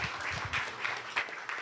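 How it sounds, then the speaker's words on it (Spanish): Church congregation at a Spanish-language discipleship class applauding, a short burst of steady, moderately distant clapping with scattered louder claps, heard alone. "Denle un aplauso al Señor"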